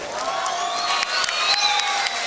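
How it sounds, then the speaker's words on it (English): Crowd applause and scattered cheers for a boxer at a live boxing event, filling the short span steadily with a whistle-like tone and an announcer's voice running over the top. "Give a round of applause for Rodrigo."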